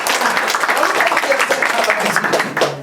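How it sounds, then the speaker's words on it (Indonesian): Loud applause rises from a church congregation during an Indonesian sermon in South Korea, a dense burst of clapping mixed with cheering voices, close and energetic before thinning slightly at the end. "berikan tepuk tangan yang meriah"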